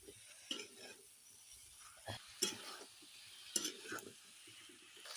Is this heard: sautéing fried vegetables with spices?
yes